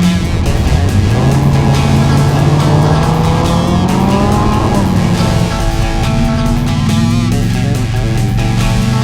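A race car at full throttle through a timed lap, the engine note climbing and dropping steadily through the gears with tires squealing through the corners, loud and close with no talking.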